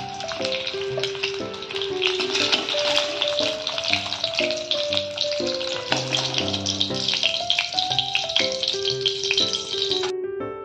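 Eggs frying in oil in a pan give a steady broadband sizzle and crackle, partly buried beneath loud melodic background music that plays throughout.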